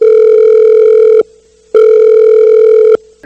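A loud electronic ringback tone sounds twice, each steady buzz lasting over a second with a short silent gap between.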